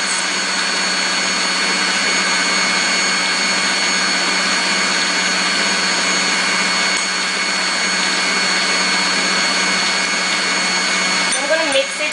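An electric mixer whirring continuously as it beats vanilla cupcake batter, a loud, steady motor drone throughout with a slight change near the end.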